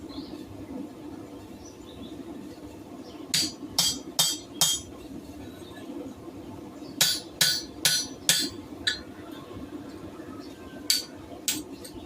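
Sharp ringing hammer blows drive a drift through hot steel at a forge, landing in quick bursts of four or five strikes separated by pauses, over a low steady background hum.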